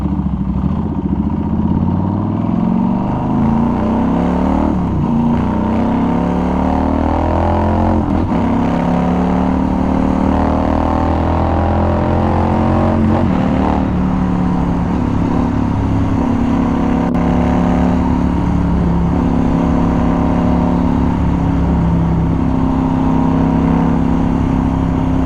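A Norton Commando 961 SF MK II motorcycle engine runs loud and close, pulling through rising and falling revs with a throaty rumble as it accelerates, steady throughout.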